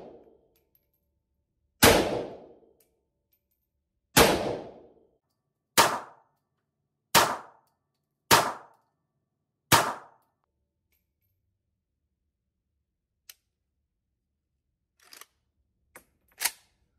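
Sharp metallic clangs from cartridges being cycled out of an AK rifle loaded with a 40-round budget magazine, six loud evenly spaced hits followed by a few softer clicks and taps, with no talking.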